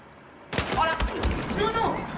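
Automatic weapon fire in a Battlefield video game, a dense, loud burst of rapid shots that starts abruptly and continues without a break, heavy and close.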